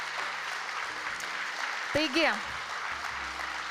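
An audience at an innovative teachers award ceremony applauds in a steady, dense wash of clapping. A voice speaks briefly over it partway through.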